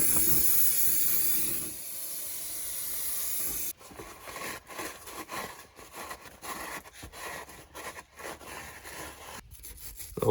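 Brake cleaner sprayed onto an oily 1971 Ford F600 truck being prepped, a steady loud aerosol hiss for a couple of seconds that then breaks into shorter, uneven bursts.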